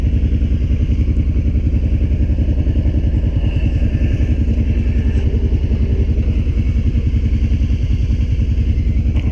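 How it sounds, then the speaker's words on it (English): ATV engine on the Casto Canyon trail, a loud, steady throbbing drone with rattling clatter, close and continuous throughout, with no talking. "Now we ride on ATVs."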